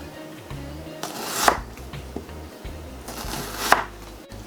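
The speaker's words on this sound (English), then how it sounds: "And slice off thin slices of onion until it stops slicing nicely." A knife slices onion on a cutting board in two sharp, close chops about two seconds apart, with light knife scrapes and handling sounds in between.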